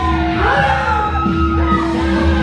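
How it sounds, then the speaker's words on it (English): A party crowd at a DJ gig screams song lyrics together, a loud massed chorus of shouting voices over steady thumping music throughout. "I want you guys to scream this at the top of your lungs."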